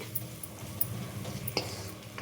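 Onions frying in a pan make a soft steady sizzle with a few light utensil clicks, close and without voices.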